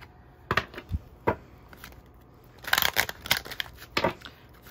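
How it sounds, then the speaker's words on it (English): A deck of oracle cards is shuffled in bursts of crisp riffling and flicking, irregular clusters of papery snaps with short pauses between, close and alone. "So I'm shuffling a little bit longer."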